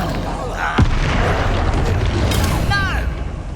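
Bombarda explosion spell cast in Hogwarts Legacy: a single deep boom lands early, then fades into dense battle ambience with bright magical shimmers.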